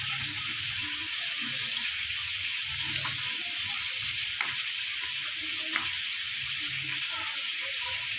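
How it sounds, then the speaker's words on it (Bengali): Amudi fish fries in hot oil with a loud, continuous sizzle and crackle, plus a few faint clicks throughout. "মাছগুলো আমার ভাজা হয়ে গেছে"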